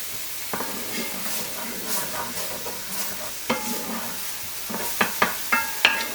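Minced garlic and onions sautéing in a pan: a continuous sizzle with stirring scrapes and several sharp clinks of utensil against pan near the end, no talking.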